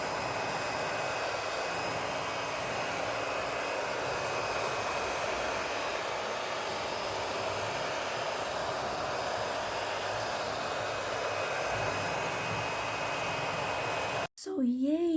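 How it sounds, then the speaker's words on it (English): An air blower pushes a loud, steady rush of air into the bottom of a Samsung washing machine being fixed for an LC1 error, a continuous roaring hiss close by, then it cuts off and a voice speaks briefly. "I'm gonna use a blower. So I'm gonna blow from here at the bottom."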